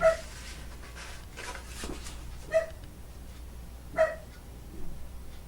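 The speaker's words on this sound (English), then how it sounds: "We got Oz barking." A dog barks three times in separate single yaps spaced a second or more apart, moderately close, with quiet background between.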